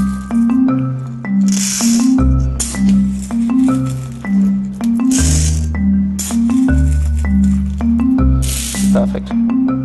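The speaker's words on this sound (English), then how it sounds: "take maybe three big scoops of coffee and pretty much cover the tray with beans" Coffee beans are scooped and poured onto a tray, a loud, close rattling cascade in several bursts over a low musical background, with no talking.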